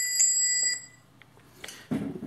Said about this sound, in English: now I have alarm